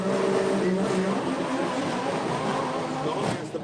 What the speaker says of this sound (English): So heads up drag racing.